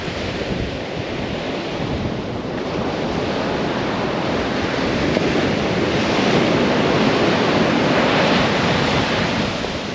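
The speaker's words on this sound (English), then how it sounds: "The Atlantic Ocean." Steady roar of Atlantic Ocean surf breaking on a South Core Banks beach in the Outer Banks, broad and continuous, with some wind buffeting the microphone throughout.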